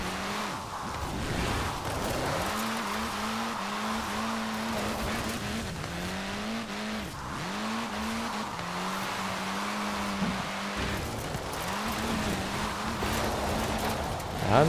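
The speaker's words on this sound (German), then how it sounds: "Mal schön driften." A roadster in Forza Horizon 4 slides through a drift with a wavering, revving engine and repeated swells as the throttle pulses. Faint tire squeal sits under the engine, which stays steady and close.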